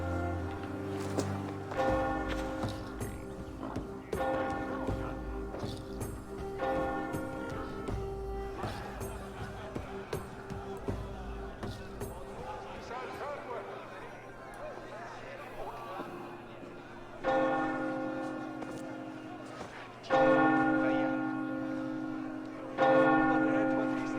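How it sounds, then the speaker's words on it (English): Church bells ring out for a wedding in Assassin's Creed Valhalla, loud repeated tolling strokes with rich lingering tones, heard clearly with faint crowd murmur beneath. "I hear wedding bells."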